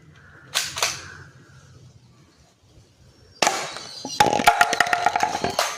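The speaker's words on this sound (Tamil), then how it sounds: "நெர்ஃப் கன் இந்த பாட்டிலில் தள்ளிடுச்சு." Nerf gun firing at a plastic water bottle: a pair of sharp snaps early on, then after a pause a loud burst followed by a rapid series of clattering knocks and rattles close by.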